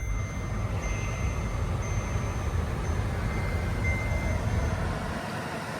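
A 2017 Kia Sedona minivan idles steadily at close range, a continuous low engine rumble with a faint whine above it and no clear crank at the start.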